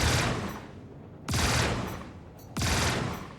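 Three bursts of heavy gunfire from an enemy ship's side turrets in the space game Star Citizen, each a loud rapid salvo that decays before the next, evenly spaced about a second apart.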